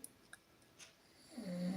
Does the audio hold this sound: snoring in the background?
yes